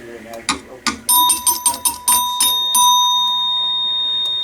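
An electric doorbell's hammer strikes a metal chime bar in a rapid series of bright, ringing hits, and the last tone sustains and rings on, heard close up with some handling noise.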